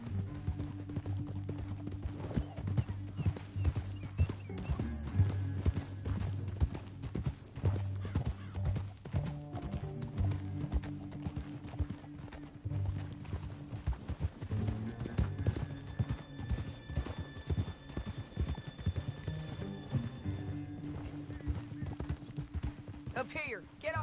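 Horses' hooves clip-clop in a steady, fairly close rhythm in Red Dead Redemption 2, with a whinny now and then and characters talking over the hoofbeats.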